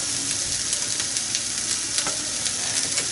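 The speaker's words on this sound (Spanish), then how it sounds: "Que si nos hizo un poquito falta de aceite, entonces vamos a echarle un chorrito nada más." Oil sizzles loudly and steadily in a frying pan with food cooking for lasagne, a dense, continuous crackling hiss close by with no voices.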